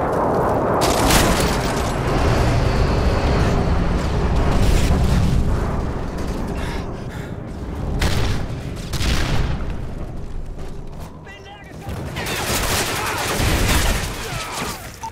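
Airstrike explosions in Modern Warfare 3 erupt in several heavy waves, loud booms and rolling rumbles near and far, mixed with gunfire and battle clatter.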